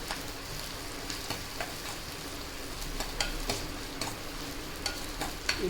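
Onions sautéing in hot oil in a pan for a tindora (ivy gourd) fry, a steady close sizzle with occasional clicks and scrapes of a spatula stirring through it, no voices.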